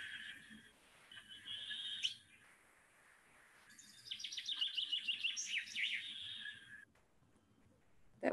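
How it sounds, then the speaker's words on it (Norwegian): A common chaffinch sings two bright bouts outdoors. Each is a rapid, descending trill of sweet notes ending in a short flourish, heard clearly with quiet pauses between. "Det var bokfinken."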